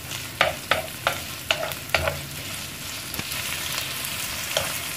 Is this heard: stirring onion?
yes